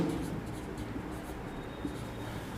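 Handwriting scratches softly and continuously on paper while accounting entries for liabilities are written out during a lesson, a close, quiet scribbling with faint taps.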